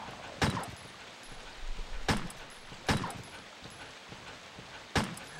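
Barking dogs in the Resident Evil video game come through as four sharp, separate barks spaced a second or more apart against a low game backdrop, with no one talking.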